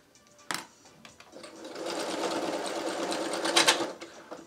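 A sewing machine runs steadily while stitching confetti-dot fabric for a clown bodysuit, starting with a few sharp clicks and then building into a loud, continuous whirring hum, close up and without talk.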